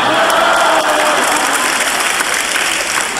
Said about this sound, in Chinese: 基本上系八卦人士拍手嘅啫